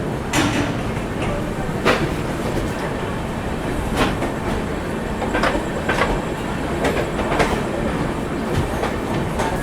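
An Indian Duronto Express running from Howrah to Mumbai rolls through Kharagpur Junction without stopping, a loud continuous rumble with rhythmic clickety-clack from the wheels over rail joints and sharp intermittent clanks, heard up close from on board.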